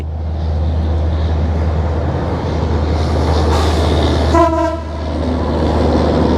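Maitree Express passenger train passing Solop station in Bangladesh: a loud, continuous close rumble of wheels and carriages with one short horn blast partway through.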